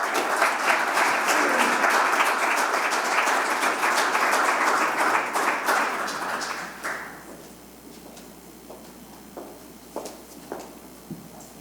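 An audience claps steadily for Secretary Bowen at a voting-rights advocacy event, a dense roomful of applause that thins out after several seconds into scattered, fading claps.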